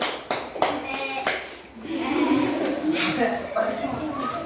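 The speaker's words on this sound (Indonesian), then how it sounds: "tepuk tangan untuk kelompok kambing" A class of fifth-grade pupils claps together in a classroom, a few sharp claps first and then a ragged burst of applause, with children's voices chattering over it.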